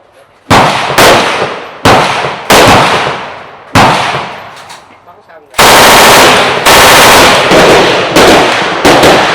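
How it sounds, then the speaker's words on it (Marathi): Loud, close gunfire at a shooting range: several heavy single shots and short bursts, with reverberant cracks overlapping near the end. "गोळ्या फायर केलेल्या आहेत"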